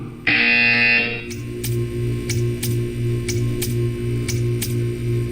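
A loud steady buzzer in Portal 2 drones for about a second, then gives way to a low humming tone pulsing in a regular rhythm with sharp ticks.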